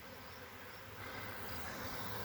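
A honey bee swarm buzzes in a low, continuous drone that swells slightly halfway through, with many wings blending into one faint, steady hum and no voices.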